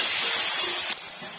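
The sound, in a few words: tomatoes sautéing with onion and garlic in a pan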